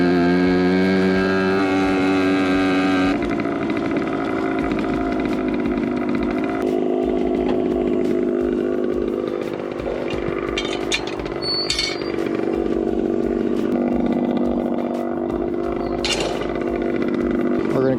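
A 1974 Suzuki TC125 two-stroke motorcycle is ridden, its engine revving loud and close with a buzzy rising whine, shifting pitch through gear changes and a sustained ringing drone.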